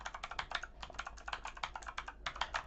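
Fast typing on a Sandberg Hailstorm keyboard, close up, with crisp rapid key clicks in bursts and a short pause, alone with no voices.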